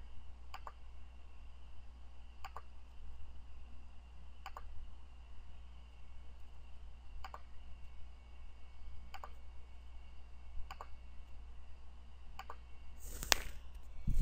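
Sharp computer mouse clicks sound at steady intervals of about two seconds, quiet and close over a low, constant hum, with one louder burst near the end while painting letters in Photoshop.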